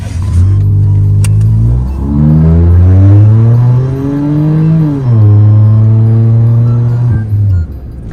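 A loud car engine with an aftermarket exhaust, heard from inside the cabin of a Suzuki Wagon R (MH21S/MH22S), revving up repeatedly through the gears with a deep booming drone and sharp pitch drops.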